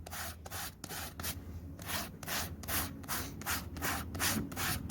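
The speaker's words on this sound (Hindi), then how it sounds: "ये इस तरह से मैं घिस रहा हूँ, आपको ऐसे ही घिसना है" Sandpaper is rubbed back and forth over a bicycle inner tube around a puncture, making a steady run of close, rhythmic scratchy strokes about twice a second, with no voices.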